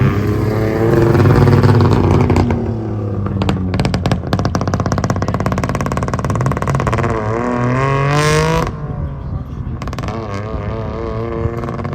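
A Saab car accelerates hard during a ride-along at an owners' convention, its engine roaring loud and close with rising pitch sweeps through gear changes, no talk.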